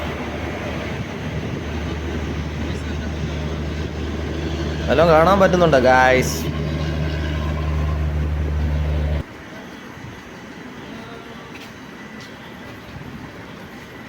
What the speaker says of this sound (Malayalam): നേത്രാവതി എക്സ്പ്രസ് ആണെന്ന് തോന്നുന്നു.